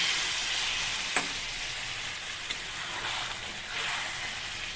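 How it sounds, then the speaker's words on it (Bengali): A potato and pointed gourd curry cooking in a pan gives a loud, continuous close sizzle as a little hot water goes in, with a few light stirring knocks and no voices. "থেকে আবার একটুখানি গরম জল নেব নিয়ে এটার মধ্যে একটুখানি দিয়ে দেব"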